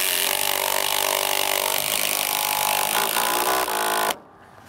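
A drill bores into a wooden roof truss in a shop under construction, a loud continuous grinding whine that runs steadily and then stops abruptly, leaving quiet.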